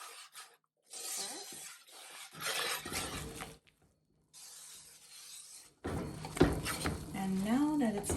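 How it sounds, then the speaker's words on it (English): A whisk scrapes and stirs liquid in a pot of Guyanese sirnee, producing close, repeated metallic rasping strokes that come in bursts separated by brief pauses, with a person talking over the later part. "I'm going to switch my spoon out for a whisk and try this."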